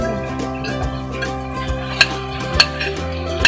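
Fried pork and tuna are stirred into sautéed ingredients in a pan for Filipino sisig, with scraping utensil clinks against the pan over a steady background hum.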